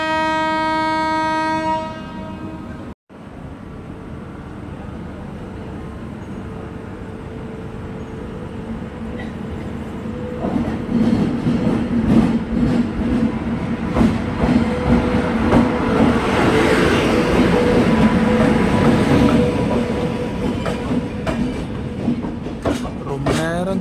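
The Pearl City Superfast Express (12694), running from Thoothukudi to Chennai, sounds a long horn, then rumbles onward with rising wheel clatter and rattling carriages, the noise growing louder and rougher toward the end.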